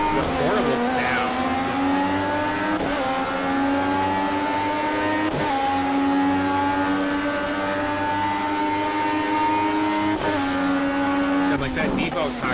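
Race car engine in the Project Cars racing game, a steady high whining drone that drops briefly at gear shifts, loud and continuous under the sim's cockpit view.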